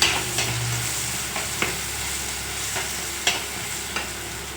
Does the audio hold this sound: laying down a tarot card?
no